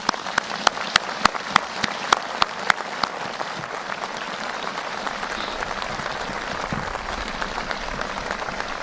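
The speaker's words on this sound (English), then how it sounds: "Please join me in thanking these 8 World War II veterans and special guests for their service with a round of applause" Round of applause for eight World War II veterans and special guests at a Memorial Day ceremony at the Netherlands American Cemetery, opening with sharp distinct claps that settle into steady, moderate outdoor clapping sustained to the end.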